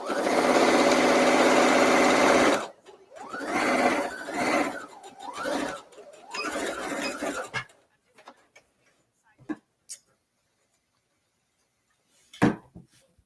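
Sewing machine running a seam on pants made from a men's shirt, a loud close burst of a few seconds, then shorter stop-start whirs, followed by quiet handling clicks and small knocks.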